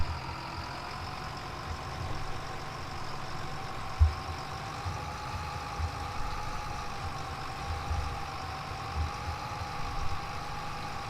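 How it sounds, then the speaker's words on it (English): A tractor engine runs steadily while driving across a field at around ten miles an hour, with a constant low drone and whining tones and a few soft knocks and bumps along the way. "Oh, I forgot to put the tractor in 14th gear."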